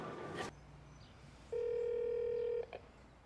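A telephone in the TV drama Euphoria sounds a single steady electronic ring tone lasting about a second after a sharp click, clear and alone in a quiet room.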